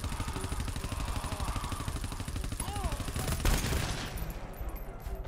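Rapid rifle fire in the video game GTFO rattles on in dense automatic bursts throughout, with a heavier blast near the middle and faint voices underneath.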